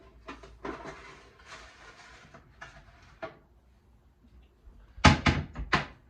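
Oven door opened and closed as a cake is put into the lower oven, heard as soft scrapes and knocks followed by a cluster of sharp metallic clunks near the end.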